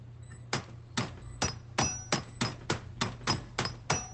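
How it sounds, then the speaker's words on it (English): Hammer strikes in the video game FNAF Help Wanted 2 ring out in a steady series of about ten sharp, metallic blows, evenly spaced and fairly close, each with a bright ringing tail. "Oh, it wants me to hammer."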